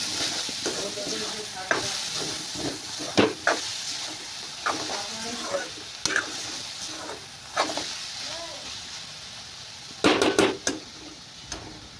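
Pumpkin stir-fries in a hot pan, with a steady sizzle beneath sharp, repeated scrapes and clacks of the utensil against the metal, clustering near the end; a voice speaks briefly in places.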